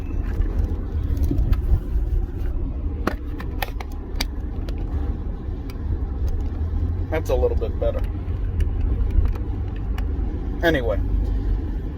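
A Honda Accord driving on a road, with a steady low rumble of engine and tyre noise from inside the cabin under a man's speech, plus a few small clicks and rattles.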